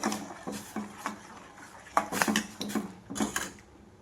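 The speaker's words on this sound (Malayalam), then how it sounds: "പാൽ അത്യാവശ്യം ഒന്ന് ചൂടായി വന്നിട്ടുണ്ട് ജസ്റ്റ് ഒന്ന് ഇളക്കി കൊടുക്കാം" Hot milk with cardamom being stirred in a pan for tea, a utensil scraping and clinking against the metal in several distinct bursts, close and fairly quiet with short pauses between strokes.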